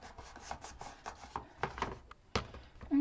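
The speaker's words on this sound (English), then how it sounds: "And burnish." Quiet scraping and rubbing strokes of a tool burnishing chipboard edges flat, a series of short irregular rasps up close.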